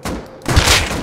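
Gunfire in the Rust survival game, a short loud burst of close shots with a heavy low thump, crackling noisily for about a second.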